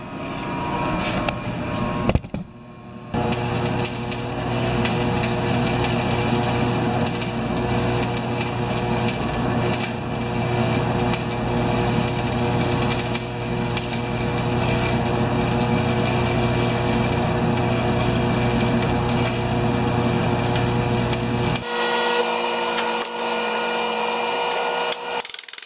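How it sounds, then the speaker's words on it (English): Stick welding on a Craftsman snowblower transmission, a continuous loud crackling and hissing arc with a steady buzzing hum that holds for about twenty seconds, then cuts to a quieter background. "I switched up and went back to stick welding."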